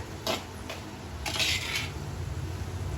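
A metal lid lifted off a pan of spicy long beans stir-fry, giving a few light clinks and scrapes of metal against metal over a quiet kitchen hum.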